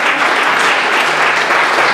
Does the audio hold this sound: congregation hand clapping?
yes